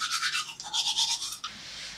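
Brisk strokes of a toothbrush scrubbing teeth in a hotel room, a close, rhythmic bristly rasp in two quick bursts with a short pause between them.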